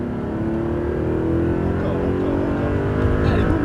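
An Audi R8 engine roars at full throttle on a race circuit, a steady loud drone with rising pitch as it accelerates, close and continuous throughout, with people talking faintly over it.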